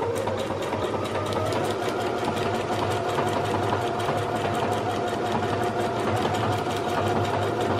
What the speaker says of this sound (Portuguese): Eu apertando o botão aqui de Start Stop, ela vai começar a costurar.